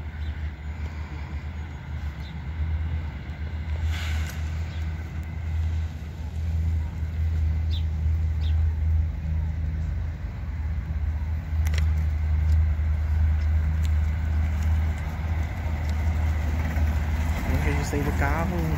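An Andorinha intercity bus on the Cuiabá–São Paulo route pulls out of the Rondonópolis bus station, its diesel engine a steady low rumble that swells slightly as it departs, with faint station background noise around it.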